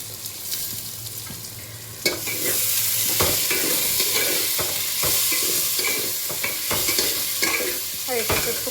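Khichuri with turmeric fries in a pan over low heat, a loud close sizzle punctuated by repeated spatula scrapes and stirring knocks, with no voices.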